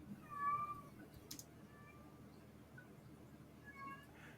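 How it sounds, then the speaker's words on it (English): A house cat named Sydney meows from close by, giving a few distinct cries with quiet pauses between them. A soft background hum runs underneath. "Your cat's annoying."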